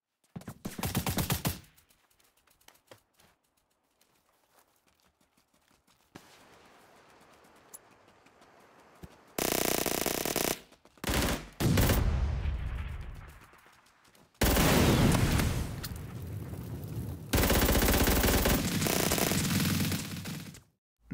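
Gunfire from PUBG played on an Xbox console comes in loud, dense bursts of rapid shots separated by quieter stretches, with longer sustained volleys toward the end.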